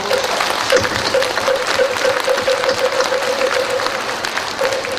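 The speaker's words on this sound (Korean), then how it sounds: "오늘 법왕으로 취임하신 어른 큰 스님께 오래오래 사시도록 힘찬 박수를 한번 쳐드리도록" Audience at a Korean Buddhist Dharma ceremony breaks into sustained applause, steady dense clapping filling the hall with a faint steady tone running underneath and no speech over it.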